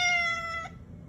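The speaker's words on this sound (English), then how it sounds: "You want to go out, Kitty?" A cat gives one drawn-out, insistent meow up close, asking to be let outside, followed by a brief faint sound.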